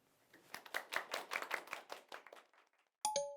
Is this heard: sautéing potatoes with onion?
no